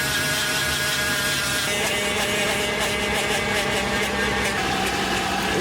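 A Toyota 4Runner with a failing transmission, broken down in a forest, makes a loud, steady mechanical drone with a grinding engine-like rumble and whine that holds throughout, close by with no talk.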